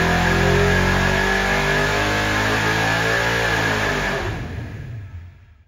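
A 468 cubic inch big-block Chevy V8 roars at high revs on a dyno, loud and sustained for several seconds before the throttle drops and the engine winds down, with no talking.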